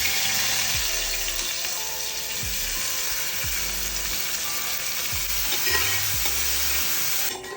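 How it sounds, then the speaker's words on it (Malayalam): Finely chopped onions sautéing with cumin seeds in hot oil, a loud, steady sizzle and crackle close up, with occasional stirring scrapes under a faint electrical hum. "അതിന് ഉള്ള സവാള വതക്കാൻ വേണ്ടിട്ട് ഇതാമ്മ കുറച്ച് ഓയിൽ ഒഴിക്കണം."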